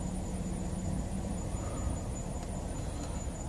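A Dodge Intrepid's engine idles steadily in a garage setting, a continuous low rumble with a faint high whine, unbroken and moderately quiet throughout.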